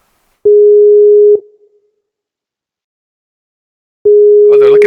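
Phone call tone heard while placing a call: a steady electronic beep lasts about a second, then silence, then the same tone returns, with a brief voice at the end.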